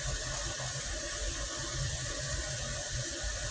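Warm water runs steadily from a bathroom sink tap, a close, continuous, full splashing hiss throughout, with no voices.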